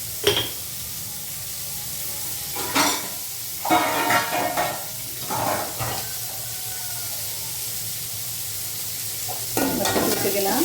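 Spicy squid thokku sautés in a pan with a steady close sizzle, broken by several bursts of stirring and scraping against the metal, with a quiet voice now and then.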